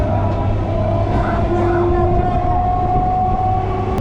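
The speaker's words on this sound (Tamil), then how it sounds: "இப்போ ட்ரெயின் வந்து ஊரப்பாக்கம் ரயில்வே ஸ்டேஷனில் என்ட்ரி ஆகுது" A suburban train rolls into Urapakkam railway station near Chennai with a steady rumble of wheels on rails, metallic squeals from the brakes and a faint horn tone, heard from on board.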